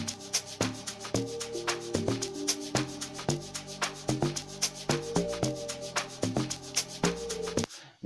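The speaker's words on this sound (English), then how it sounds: "this one is a hard log drum mixed with a sub bass" Hard log drum layered with sub bass, programmed in Caustic 3 for an amapiano beat, hits in a steady syncopated pattern of punchy, booming low notes over bright percussion, loud and alone until it cuts off at the end.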